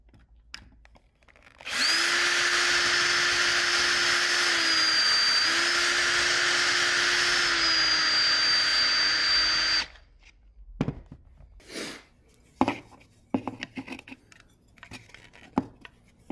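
A hand drill with a 5/32 bit whines steadily for about eight seconds while working on a sinking-building mod for an Earthshaker, a loud, even high-pitched tone, followed by scattered clicks and handling noises.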